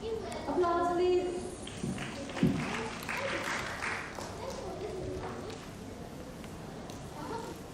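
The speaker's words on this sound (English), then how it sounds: "Applause please." An audience at a school storytelling contest gives quiet, scattered clapping that fades away over several seconds, with a voice heard at the start.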